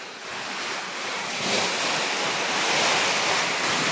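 Strong super typhoon wind roars and buffets the microphone in a continuous rushing blast, swelling louder midway, with no voices heard.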